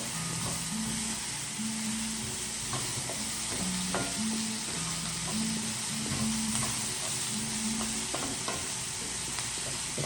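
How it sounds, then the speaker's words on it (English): Onions fry in a hot pan with a steady, close sizzle and occasional stirring clicks, while faint tonal beeps sound in the background. "I'm going to take these onions and drop down in here. And these onions are going to really cook down."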